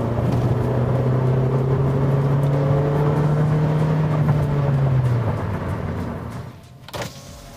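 A Kia Forte with a 4-speed automatic transmission accelerates under full throttle, giving a steady, droning engine note that holds for several seconds and then fades as it eases off.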